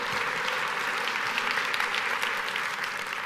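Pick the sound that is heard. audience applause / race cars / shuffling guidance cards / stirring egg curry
audience applause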